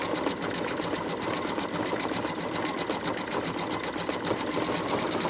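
An embroidery machine stitches a heart corner bookmark, a steady, fast mechanical whir with a dense needle rhythm running close and constant throughout, with no talk over it.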